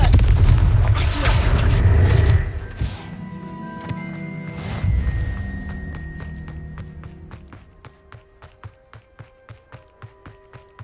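Confringo fire-blast spell in Hogwarts Legacy, a loud, close booming explosion with a heavy burst for a couple of seconds, a second thud, then a decaying tail of regular ticking taps that fade out.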